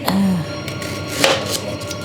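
Knife slicing shallot on a cutting board in a Thai kitchen, a few sparse, crisp cuts spaced unevenly over a quiet background.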